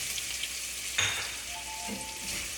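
Ginger, garlic and green chilies fry in a pan over medium heat, giving a steady close sizzle with a brief louder burst of spatter as a spoon moves the mix partway through.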